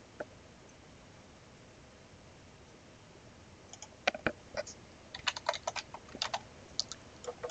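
A computer keyboard is typed on at close range while a search term is entered: near-silence for the first few seconds, then a quick run of crisp key clicks in an irregular rhythm.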